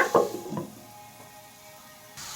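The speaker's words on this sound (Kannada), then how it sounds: "ಇದು ಆಯಿಲಲ್ಲಿ ಏನಾಗಲಿ ಸ್ವಲ್ಪ ಫ್ರೈ ಆಗಲಿ ಒಂದು ಲಿಡ್ಡನ್ನು ಮುಚ್ಚಿಬಿಟ್ಟು ಕ್ಲೋಸ್ ಮಾಡೋಣ" Seeds fry in oil in a pan, opening with a few clattering stirs and then settling into a faint, steady sizzle close by.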